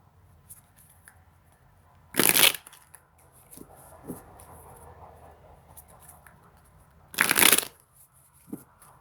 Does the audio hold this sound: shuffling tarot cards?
yes